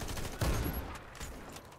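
Rapid gunfire bursts from a Warface match crackle loudly for under two seconds, a dense, clipped volley with a sharp peak near the start, no talking over it.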